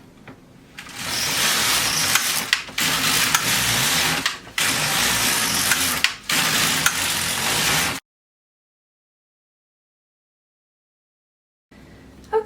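Carriage of an LK150 knitting machine sliding back and forth across rows, four loud raspy passes separated by short pauses, then silence before another pass begins.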